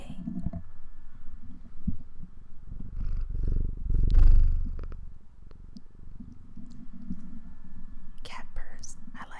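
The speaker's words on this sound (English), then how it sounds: "Cat purrs." A house cat purrs close up in a quiet room, a soft continuous low rumble that swells in the middle, with faint rustles and a brief brushing sound near the end.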